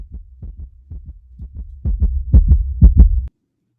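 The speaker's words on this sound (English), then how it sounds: "Let's add a heartbeat fast sound effect." A fast heartbeat sound effect from StreamYard, about a dozen quick muffled thumps in paired beats that grow louder and faster before stopping abruptly.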